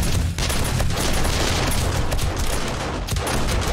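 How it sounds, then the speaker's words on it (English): Shotguns firing at a horde in the survival game 7 Days To Die make a loud, continuous barrage of dense overlapping gunfire blasts that never lets up. "Shotguns are coming online."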